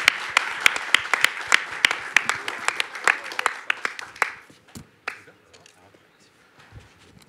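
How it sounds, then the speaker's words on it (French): An audience at a French round-table discussion claps in sharp, even beats for about four seconds. The claps then thin out into a few scattered ones and fade to near quiet. "Magnifique, ça s'acclame très fort"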